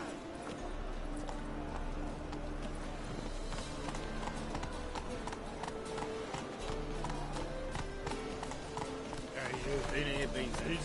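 Roach, the horse in The Witcher 3, gallops at a steady rhythmic clip-clop of hooves under continuous talk and game music, with a faint whinny near the end.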